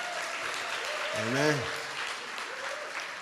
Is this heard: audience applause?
yes